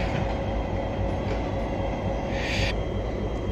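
An eight-car passenger train set rolls steadily into a siding at Bacchus Marsh, a loud continuous rumble of wheels and motors nearby with a brief high squeal partway through.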